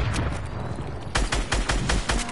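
Rapid bursts of automatic gunfire in a Fortnite match crack out in quick succession, loud and close, rising in intensity partway through, with no voice over them.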